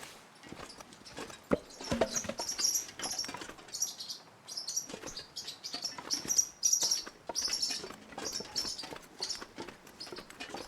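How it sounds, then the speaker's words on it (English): Birds chirp and tweet repeatedly in bright, high bursts across a video game map's outdoor ambience, with scattered patter and light rustling steps underneath and no talking. "Shut up, birds."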